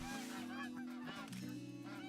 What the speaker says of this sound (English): Hello, little geese. How are you doing today?